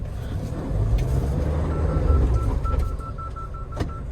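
A stuck 4x2 car in reverse gear, its engine revving and straining with a rising and falling low drone, close by, with a faint repeating electronic beep.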